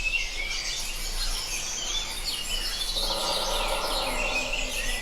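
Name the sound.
forest soundscape recording with finch, birds, wind and water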